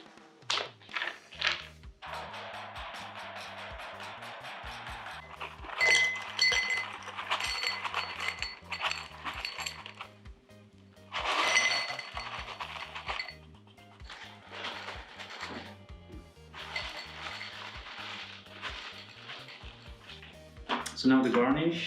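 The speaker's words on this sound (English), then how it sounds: "I'm gonna use this, so hammer and a bag. And we're gonna be smashing some ice cubes." A hammer smashes ice cubes inside a bag to make crushed ice for cocktails, giving repeated close thunks and glassy clinks in irregular bursts with short pauses between strikes.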